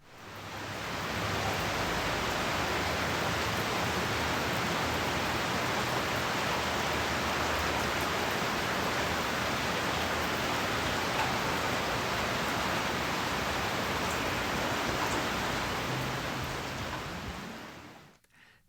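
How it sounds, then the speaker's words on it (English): Heavy rain falling in Florida in the middle of the night, a dense, steady hiss that fades in, holds at an even loud level for the whole stretch and fades out at the end, with no voices. "That is the rain falling down in Florida."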